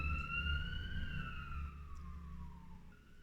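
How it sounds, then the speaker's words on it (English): Village fire alarm siren wailing from a distance, a steady rising-and-falling tone that slowly drifts lower, faint over low outdoor rumble. "The fire alarm just went off for the village"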